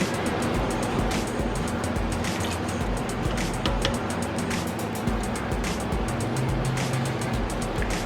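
Liquid drained from a cooking pot while making a pantry-style chili, a loud continuous rushing splash lasting the whole stretch without voices.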